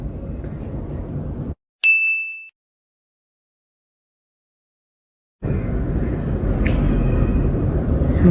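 A short bright chime from AirPods Pro pairing rings out once in a quiet moment, set between stretches of low background noise.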